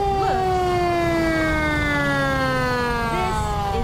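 Fire engine siren wailing continuously and loudly during a high-rise fire drill, a steady falling tone with a quick yelp near the start and again near the end, over rumbling engine noise.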